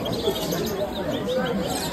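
Canaries for sale at a busy market, including red canaries, chirping and cooing amid dense crowd chatter and background noise.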